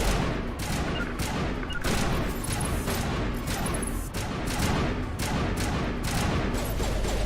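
Rifle fire in the video game Mass Effect: a rapid series of sharp shots repeating about every half second over a dense backdrop of battle noise, loud and continuous throughout, with no speech.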